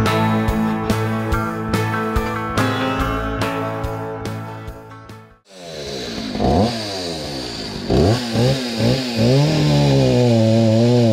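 A chainsaw cutting firewood runs loud and close: first a steady high-pitched roar, then after a brief drop it revs up and down repeatedly in bursts as it bites into the wood, with no talk.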